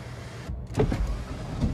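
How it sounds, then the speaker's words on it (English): Power sunshade retracting in a 2024 Dodge Hornet RT Plus Blacktop: a brief motor whir with small mechanical clicks after a button press, close inside the cabin, short and moderately loud. "And we're gonna hit that sunshade."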